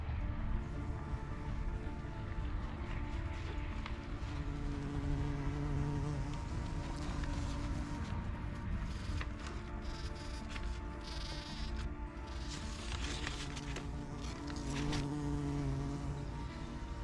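Bees work the tomato flowers inside a greenhouse, humming in a steady, continuous drone that rises and falls slightly as insects move close to and away from the listener, with no talk.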